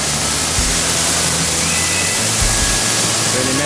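Krang waterfall in Meghalaya heard from behind the falling water inside a cave, a loud, dense, steady roar of crashing water filling the scene with no talk.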